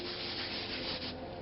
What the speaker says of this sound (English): I'm just going to hand sand over it really lightly and knock that roughness off